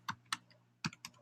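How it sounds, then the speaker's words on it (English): Several separate keystrokes on a computer keyboard, tapped in two short bursts with pauses between them, close by and fairly quiet, no talking. "I keep typing stuff wrong."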